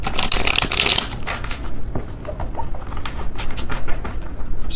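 Cards from a small tarot deck are shuffled in bursts of crisp riffling and soft flapping, loudest early on and then lighter, with no talking.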